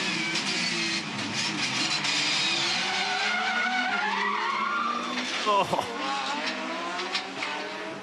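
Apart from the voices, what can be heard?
race car rear tyres locking, spinning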